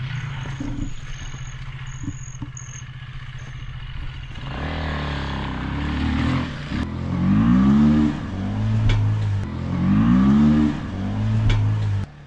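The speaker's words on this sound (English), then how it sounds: "Hey, I hear a motorcycle." A motorcycle engine revs up and down repeatedly, rising and falling in pitch, loud and close, with steady rumbling between the surges.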